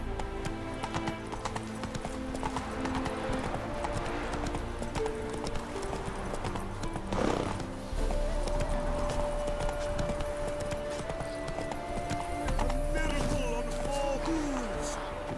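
Rhythmic hoofbeats of a galloping horse in The Witcher video game, steady and close, with a brief whinny and a music score playing underneath.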